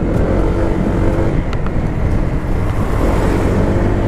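A Honda PCX 160 CBS scooter accelerates along a road with a loud, steady engine drone and wind rush, recorded close from the rider's position, with no talking.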